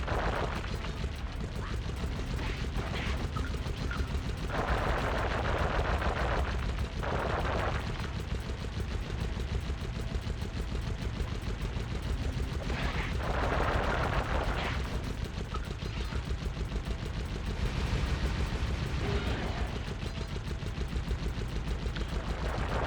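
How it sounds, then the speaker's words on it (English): Steady battle din from Sly Cooper and the Thievius Raccoonus, a dense rapid rattle of shots and booms running the whole length with several louder bursts spaced through it, no voices. "I bet that cannon is powerful enough to blow down those heavy security"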